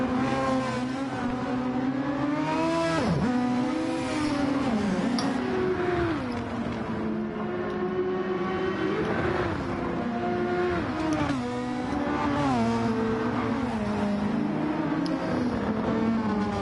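Super Formula racing cars scream through their final lap, engines revving and shifting at high pitch, loud and sustained, with cars passing and pitch sweeps as they brake and accelerate.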